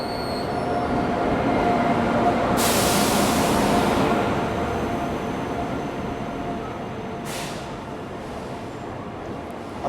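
Mumbai Tejas Rajdhani Express, train number 12951, rolls into a platform with a steady loud rumble of coaches and wheels on rail, and a couple of brief hissing bursts rise over it.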